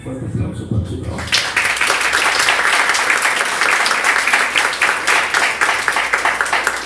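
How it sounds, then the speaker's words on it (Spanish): At an author event, someone speaks briefly before a crowd breaks into loud, sustained applause, dense clapping continuing steadily to the end. "les pido un fuerte aplauso para su trabajo"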